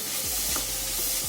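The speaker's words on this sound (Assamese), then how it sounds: "ভালকৈ এতিয়া এইখিনি লৰাই সিজাব লাগিব" Grated carrots for gajar halwa stirred in a hot pan, a steady close sizzle of frying with repeated scraping strokes of a spoon through the mixture.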